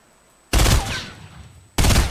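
A FAMAS rifle from Fortnite fires, opening with a loud, close burst of shots, then a decaying echo, followed by a second sharp burst near the end.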